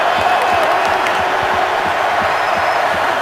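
A stadium crowd at a 2015 Browns vs Steelers NFL football game roars in a constant, loud, dense wash of cheering and noise, with faint claps and whoops mixed in.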